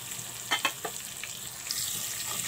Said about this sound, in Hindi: हल्के हल्के से इसे हम भूनेंगे 2 मिनट तक